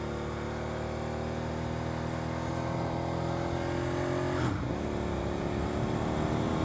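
A Suzuki SV650S motorcycle is ridden at a steady engine drone with wind noise. Midway the pitch dips during a rough, stiff gear shift, then the engine settles again at a new steady note.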